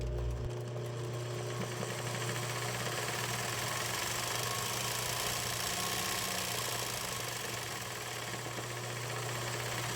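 A domestic or semi-industrial sewing machine stitches a zigzag embroidery satin stitch, giving a steady close mechanical hum and rapid fine rattle that runs continuously with no talk.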